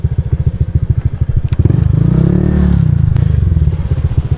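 A motorcycle engine runs close by with a steady low throb, chugging at idle and then swelling into a louder, sustained rev before settling back.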